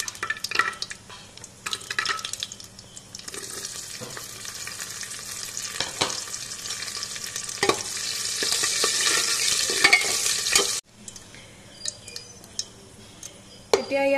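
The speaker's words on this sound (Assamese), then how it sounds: "মই আগতে এইখিনি অকণমান ভাজি ল'ম কাজু আৰু কিচমিচখিনি" Cashews and raisins with a few cumin seeds fry in a pan of hot oil, giving a loud steady sizzle with spoon scrapes and clinks of stirring that cuts off abruptly, then quieter crackling resumes.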